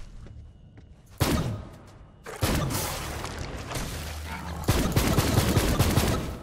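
The Legendary Pearless SuperBall gun in Borderlands 3 fires in three heavy, booming blasts like a weak shotgun, each followed by a rumbling crackle of impacts.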